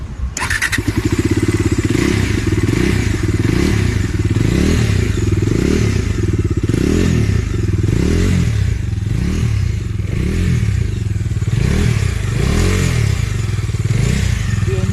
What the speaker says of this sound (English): Let's check the exhaust note once.